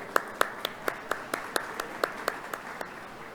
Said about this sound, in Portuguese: Palmas aí para o Otávio, galera.